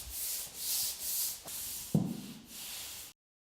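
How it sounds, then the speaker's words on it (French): A sander rasps across plasterboard in several steady back-and-forth strokes, close by, with a brief knock midway before the sound cuts off. "il faut en premier lieu que tu lisses à la ponceuse ou avec un peu de papier abrasif."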